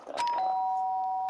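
Danganronpa doorbell chime, a clear two-note ding-dong with a bright electronic tone, sounding close and alone against quiet background.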